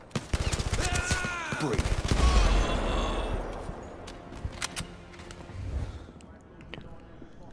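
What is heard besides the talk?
gunshots in Blood & Truth VR video game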